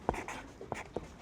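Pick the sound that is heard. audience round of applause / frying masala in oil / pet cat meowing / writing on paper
writing on paper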